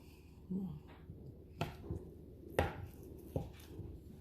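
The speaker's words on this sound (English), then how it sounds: "let's cut it. I'm going to use just a spatula." A spatula cuts through a two-layer peach jello dessert in a quiet kitchen, making a few soft, separate thuds and scrapes against the dish, spaced about a second apart.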